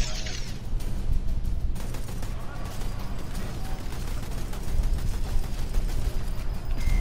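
Dense rattling gunfire fills Sniper Elite 4, with rapid repeated shots forming a steady, loud clatter across the whole stretch, without talking over it.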